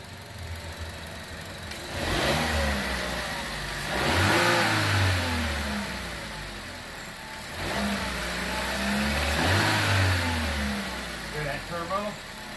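A 2015 Chevrolet Cruze turbo engine runs after a coolant refill, revving up and settling back in repeated swells with a mid-pitched drone. The engine is close and fairly loud, and a voice talks over it.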